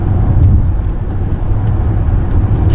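A Mercedes-Benz EQA 250 electric car accelerates with the pedal pressed fully down, producing a steady, loud low rumble of road and cabin noise that holds evenly throughout, with no voices.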